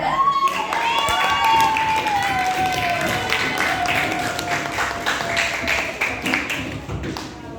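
A classroom group gives applause for group 5 after a role play on the circulatory system, with steady clapping and scattered taps continuing throughout while voices chatter over it.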